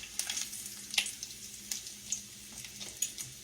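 Bacon frying in a skillet gives a steady crackling sizzle with scattered sharp pops, close and moderately loud, with no voices over it.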